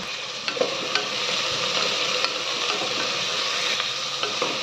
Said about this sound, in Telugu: కరివేపాకు, బాగా వేగాక ఒక పెద్ద ఉల్లిపాయ ముక్కలు, 2 పచ్చిమిరపకాయ చీరికలు